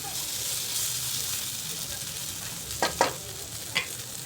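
Eggplant sautéing in a pan with spices for a quick office-lunch vegetable dish: a steady close sizzle and hiss, with a few sharp scraping clinks of stirring near the end.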